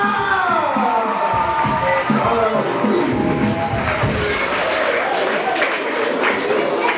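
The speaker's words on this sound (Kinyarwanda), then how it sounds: "Amashyi menshi ku Mana." A church congregation breaks into sustained applause, many hands clapping at once in a dense, steady wash, with voices calling out beneath it.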